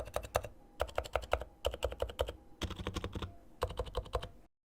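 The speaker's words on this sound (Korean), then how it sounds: "스테빌 키들도 일반 모델과 다르게 소음이 잘 잡혀있어서 정숙한 느낌을 줍니다." Typing on a quiet Topre electro-capacitive keyboard with noise-dampened stabilized keys, heard alone as close, muted bursts of rapid keystrokes separated by short pauses before going silent.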